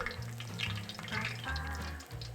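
Battered mini squid frying in hot oil, a steady close crackle and sizzle with bursts of splattering and a low rumbling hum underneath.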